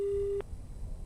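A telephone busy tone on a dropped line during a Hindi TV news phone interview: one steady tone sounds for about half a second, then cuts off into quiet line hiss.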